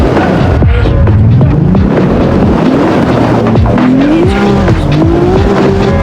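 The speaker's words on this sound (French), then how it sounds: "J'essaye de la contrôler, elle fait des pirouettes." A car spins out in the CarX Street racing game, its tires squealing in long, sweeping tones over a constant loud engine roar that keeps shifting pitch.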